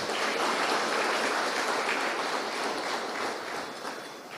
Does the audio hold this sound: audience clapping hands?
yes